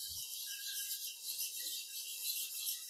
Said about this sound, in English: just use a flat hone here, and you can just run that across the top to take off what was left of the previous bevel